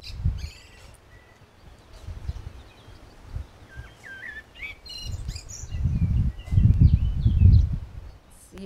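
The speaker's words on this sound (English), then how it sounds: "All you hear are the birds." Birds chirp and twitter at a quiet spot on Pico island, scattered faint calls over soft outdoor rustling and low rumbles that swell toward the end.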